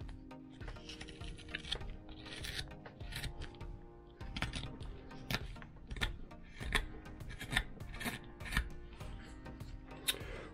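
A gouge carving wood on a small Santa figure, with close, quiet scraping and slicing strokes repeating in short irregular bursts over a faint background hum.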